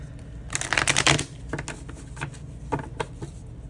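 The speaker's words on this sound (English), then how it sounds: "I'm going to give it another shuffle." Tarot and oracle cards being shuffled in a riffle burst, then several shorter crisp shuffles and taps, close and fairly loud, with no talking.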